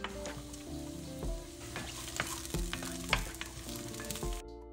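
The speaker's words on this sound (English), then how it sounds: "I'm gonna add the onions." Onions fry in a thin film of cooking oil in a pot for salmon fried rice, giving a steady, dense crackling sizzle with occasional stirring scrapes and taps, close and continuous.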